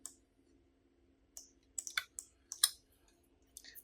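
Several sharp mouse clicks land in uneven clusters over a faint steady hum while a character is edited in Adobe Animate, isolated and fairly close with short gaps of quiet between them.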